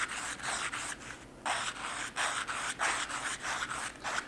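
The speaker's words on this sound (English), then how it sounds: "I use those underneath the sandpaper sometimes just to kind of give me a little bit of extra cushion" Sandpaper rubbed over wood with a foam pad beneath it for cushioning, a steady series of close, soft scratchy strokes in a regular back-and-forth rhythm with a brief pause partway through.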